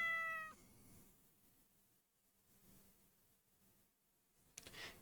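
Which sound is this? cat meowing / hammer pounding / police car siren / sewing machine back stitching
cat meowing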